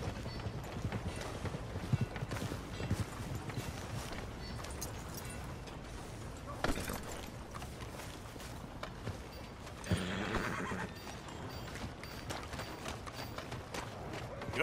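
Horse hooves clip-clopping steadily in Red Dead Redemption 2, with a brief whinny-like burst partway through, set against continuous game ambience; the hoofbeats stay fairly close and even.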